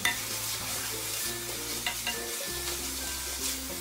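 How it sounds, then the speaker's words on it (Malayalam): Three teaspoons of ginger garlic paste sauté in a pan for a chickpea curry, a close steady sizzle with faint stirring and no speech. "ഈ 3 ടീസ്പൂൺ ജിഞ്ചർ ഗാർലിക് പേസ്റ്റും കൂടി ഇട്ട് ഇതൊന്ന് വഴറ്റി കൊടുക്കാം."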